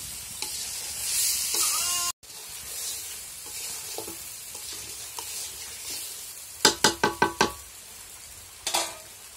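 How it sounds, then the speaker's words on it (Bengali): Fried meat and potatoes being cooked down with spice masala for pulao mangsho, a sizzle with stirring scrapes, a sudden cut, then a quick run of five loud spoon knocks against the pot and a final pair, no speech. "এখন মাংস আর আলু দিয়ে দিল।"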